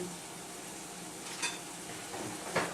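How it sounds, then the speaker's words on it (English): Ground turkey meat browning in a pan gives a steady low sizzle, broken by two brief scraping stirs, the second near the end a little louder. "while the turkey meat is browning up"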